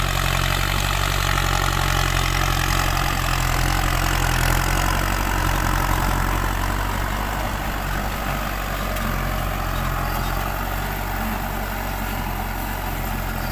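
A tractor pulling a cassava planter that chops stems into cuttings runs in the field, its engine a loud, unbroken drone that holds steady throughout.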